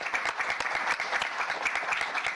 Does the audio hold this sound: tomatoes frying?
no